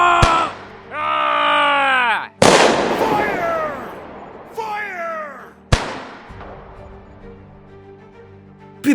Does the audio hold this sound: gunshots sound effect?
yes